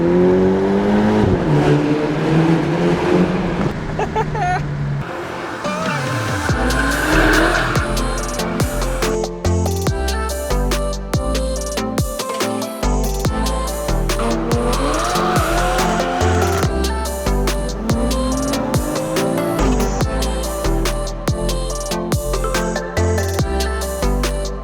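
A Mini John Cooper Works convertible, F56/F57 JCW LCI II with DCE Parts exhaust, driving hard, its engine revving loudly through gear changes with sharp rising and falling exhaust tones, sustained and close throughout.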